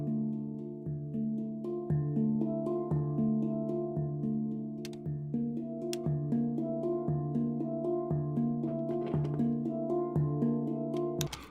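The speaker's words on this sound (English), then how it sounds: "So the Handpan sounds like this." A handpan played in a steady, gentle pattern of ringing metallic tones, each note sustaining and overlapping, moderately quiet and alone.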